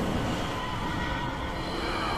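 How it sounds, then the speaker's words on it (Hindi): A horse neighing in the video game Metal Gear Solid 5, a loud drawn-out whinny set against dense, noisy game sound lasting about two seconds. "ओ भाई ये आग वाला घोड़ा कहाँ से आ गया"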